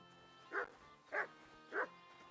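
In Kingdom Come: Deliverance II, a dog gives three evenly spaced barks, each short and moderately loud, over a faint steady background hum.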